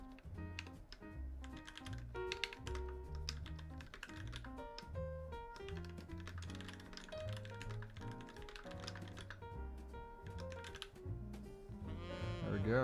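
Rapid, steady keystrokes clatter on a custom-built mechanical keyboard, with dense clicky taps running throughout over sustained tonal sound, growing busier toward the end.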